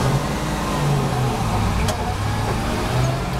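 Old truck engine pulling in first gear, a loud, steady low rumble with continuous road and cab noise throughout, no clear rise in pitch.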